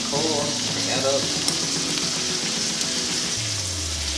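The fat cap of a wagyu steak sears in a hot pan with a loud, continuous sizzle, while a voice and low tones sound briefly beneath it.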